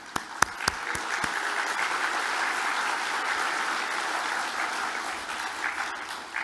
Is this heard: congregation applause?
yes